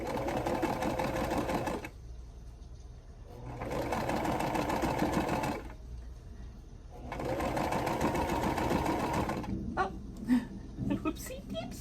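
Bursts of rapid, rhythmic sewing machine stitching run across a quilt block corner to corner, three long runs separated by pauses, close and steady, with a person talking in the gaps.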